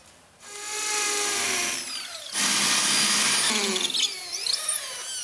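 A power drill boring holes to mount a linear shower drain channel, two sustained high whining runs with pitch shifts as the bit bites, loud and close with no speech.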